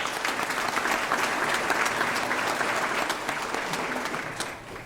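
An audience at a volunteer fire department banquet applauds, a dense, steady wash of clapping from many hands that carries on evenly and starts to fade near the end.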